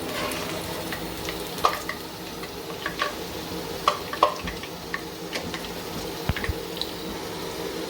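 Onions fry in a pan until browned for chicken haleem. The oil sizzles continuously while a spoon stirs and scrapes against the pan, making irregular clicks and taps over the steady frying hiss.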